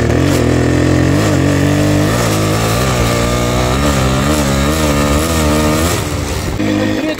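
A Minsk motorcycle engine runs loud and close in second gear, its buzzy two-stroke note rising and falling through a series of revs before easing off near the end.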